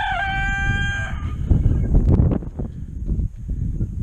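Five chickens in a coop: a rooster-like crow rings out at first, then a busy run of close clucks and squawks fills the rest.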